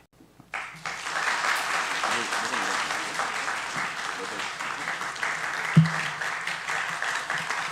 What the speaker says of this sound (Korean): 이제 교수님 앞으로 나오실 때 더 큰 박수로 환영해 주시기 바랍니다